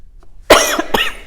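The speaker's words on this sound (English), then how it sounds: "I don't know why I'm coughing." Two sharp, close coughs in quick succession, the first loud and harsh, the second slightly shorter, after a brief quiet moment.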